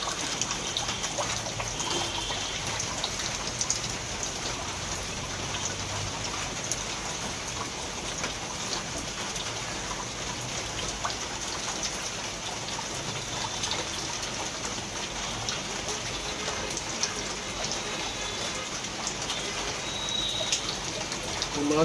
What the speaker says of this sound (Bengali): পোলাও চালটাকে ভালো করে ধুয়ে পানিটা ছেঁকে নিচ্ছি।